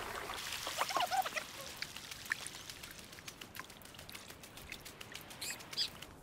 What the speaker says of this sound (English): Oh, look, there's a bird.